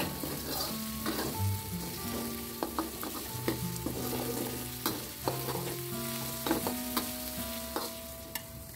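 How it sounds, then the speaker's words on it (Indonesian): Onion and garlic sizzling in oil while being stirred, with frequent scraping and clinking of a utensil against the pan, close and steady. "lalu tumis bawang bombay dan bawang putih hingga harum."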